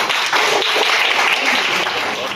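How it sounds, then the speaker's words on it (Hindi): Primary school students at a calligraphy centre clap together in a dense, loud burst of applause lasting a couple of seconds. "क्या बात है कि एक मतलब जोरदार अपने लिए तालियां बजा दी।"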